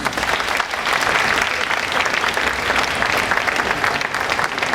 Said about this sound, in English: So that's a big round of applause.